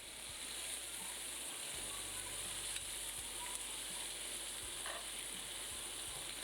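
Chicken steak with garlic frying in a pan, a soft steady sizzle with occasional light clinks and stirring, faint and even throughout.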